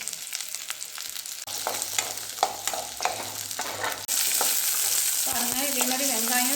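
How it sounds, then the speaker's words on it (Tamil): Garlic and tamarind sizzle steadily in oil in a pan as they are stirred, with occasional scraping and a louder hiss toward the end. "பூண்டு புளி இது எல்லாத்தையுமே நல்லா வதக்கிடணும்"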